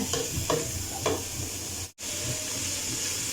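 Shredded boiled chicken, seasoned with salt and cumin, stirred in a hot pan with a steady sizzling hiss and a few soft scraping strokes, close and alone with no talk.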